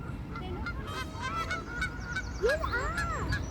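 Geese honk repeatedly on an evening riverside near Manchester, England, several calls overlapping with one louder rising honk near the end, over steady background noise.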